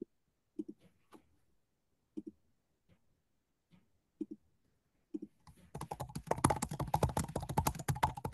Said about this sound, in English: whoever is on typing ferociously may want to type less ferociously